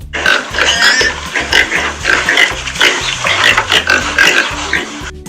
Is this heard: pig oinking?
yes